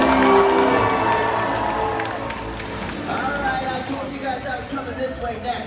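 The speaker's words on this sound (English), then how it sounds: "When we see her over at stage, give her a great big cheer." A large audience at an orca show cheers and applauds loudly, the crowd roar swelling at first then tapering into scattered shouts and clapping.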